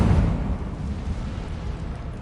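A burst of fire from the Incendio spell in Hogwarts Legacy, a loud low rumbling whoosh that starts strongest and rolls on steadily for about two seconds, with no voices.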